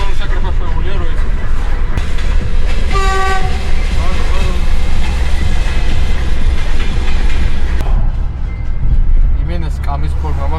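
A train passing close by on a trip to Batumi, a loud steady rumble of wagons with a brief horn blast partway through, while people talk over it.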